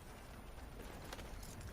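Horse hooves clip-clopping in the Red Dead Redemption 2 video game, a soft, steady trot set back in the mix beneath a broad, noisy game soundscape. No speech.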